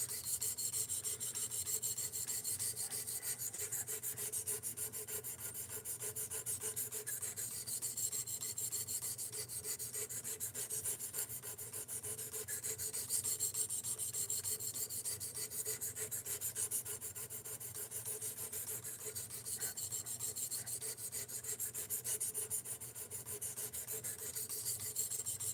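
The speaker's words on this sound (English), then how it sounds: "I'm just going to finish sharpening this guy." A blade is drawn over a 600 grit sharpening stone in long continuous gritty rasping strokes, close and steady for the whole stretch with no talking.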